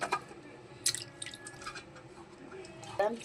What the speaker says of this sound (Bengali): মাছগুলো আমি এখন ধুয়ে নিচ্ছি